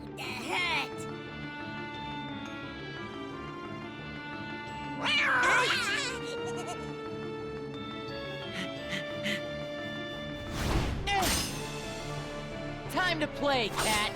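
An enemy cat yowls and caterwauls in the Cinderella world of Kingdom Hearts 3. Repeated meows sound over steady game music, with combat effects and someone speaking in bursts.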